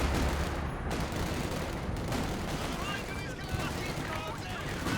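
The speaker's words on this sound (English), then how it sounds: "Calling in some base artillery over here" Artillery shelling during a Company of Heroes 2 match, a dense continuous rumble of gunfire and blasts filling the whole stretch at fairly constant loudness, with a voice talking over it.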